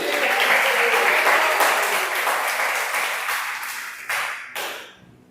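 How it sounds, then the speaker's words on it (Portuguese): Church congregation applauding during a Portuguese-language teaching service, dense clapping that slowly thins out and fades, ending in a couple of last loud claps before silence. "E as palmas ao Senhor."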